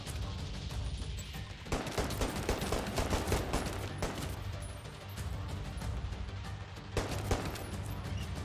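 Dense bursts of gunfire from a video game, rapid volleys and machine-gun style rattles running almost continuously at moderate level, with a brief lull before a sharper burst near the end.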